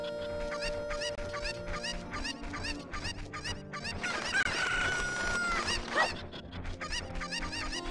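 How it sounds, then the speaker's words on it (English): Chickens from the Kakariko Village chicken-collecting task in Zelda: Ocarina of Time cluck and crow in steady repeated bursts over game music, with no talking. "she lost her chickens, you have to pick them up"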